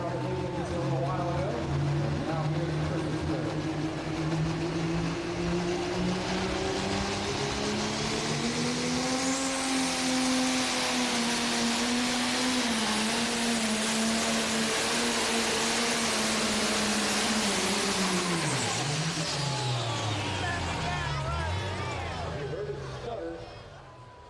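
Pulling truck at the 2023 Lions Super Pull of the South in Chapel Hill, Tennessee, its engine roaring loud and sustained as the revs climb and waver, then falling off near the end, with an announcer talking over it.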